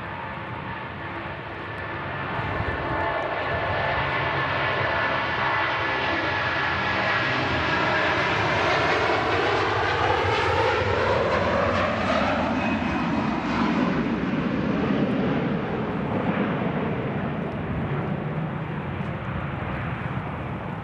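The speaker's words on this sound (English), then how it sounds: "Virgin Atlantic A330 on the roll now as a Singapore A350 is under tow." A Virgin Atlantic Airbus A330-300 takes off at Manchester Airport, engines building into a loud, sustained roar whose pitch sweeps as it passes, heard alone from a distance with a broad rumbling wash.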